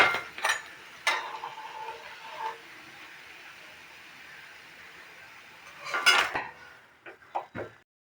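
A metal utensil clinks against a frying pan as fried chili fritters (lanka chop) are lifted out one at a time, giving a few sharp, close knocks spread apart over a soft steady hiss.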